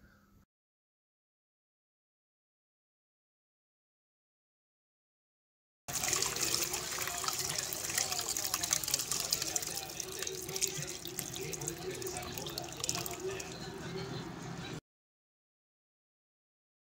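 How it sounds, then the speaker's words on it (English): Cooked cranberries strained from their juice, with a steady rush of pouring liquid that starts abruptly, runs loud and continuous for about nine seconds, then stops, with silence before and after. "now I'm gonna go ahead and strain the cranberries from the juice."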